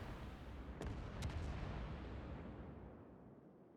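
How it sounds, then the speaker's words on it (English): A ship's main guns fire in the World of Warships video game, giving a deep boom with sharp cracks that rumbles and slowly fades over a few seconds. "he shot a gun thinking it was his torps"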